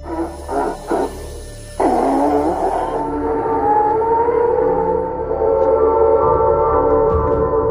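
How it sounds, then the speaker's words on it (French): Huge loudspeakers set up across the Korean DMZ near South Korean homes blare a piercing, sustained siren-like wail that starts after a few brief tones and holds loud and unbroken. "les gens vivant près de la frontière ont entendu un cri perçant qui n'a jamais pris fin"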